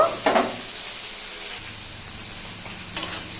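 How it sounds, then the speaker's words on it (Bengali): Spiced masala sautéing in a pan with a splash of hot water, giving a soft steady sizzle with a few brief scraping stirs near the start and end, no voices. "এরপর আমি অল্প পরিমাণে গরম জল দিয়ে আমি কষে নেব"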